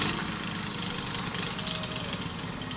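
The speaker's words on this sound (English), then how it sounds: "Time to mow the yard again with our new" Steady close engine drone from a huge homemade lawn mower with a 246-inch deck, made of many mowers joined together, running continuously as it cuts a yard, loud with a rattling edge.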